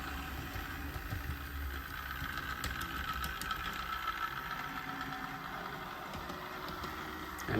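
A Bachmann Plus Canadian Pacific GP35 model locomotive runs after gearbox repair, its small motor giving a steady whirring hum with a faint mechanical buzz that holds even and unbroken throughout.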